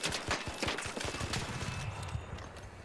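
Rapid bursts of Bettina rifle fire in the video game ARC Raiders, a quick run of sharp, loud shots in the first second or so, then dense rattling game effects continuing under them.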